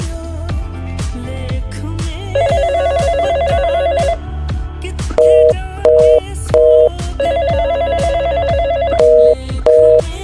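A phone rings repeatedly, bursts of electronic ringing over a rhythmic musical backing, going on unanswered with no voices.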